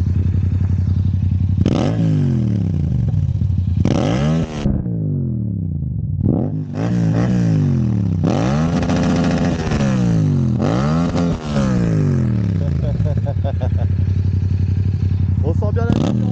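A motorcycle with an Akrapovic titanium and carbon exhaust, baffle removed, revs hard while standing still, giving a series of loud, close throttle blips that rise and fall, with crackling pops between them.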